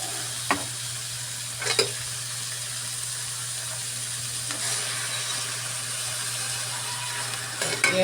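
Mussels sizzle in a pan as they cook for adobong tahong, giving off a steady, fairly quiet frying hiss with a few clinks of stirring and no voices.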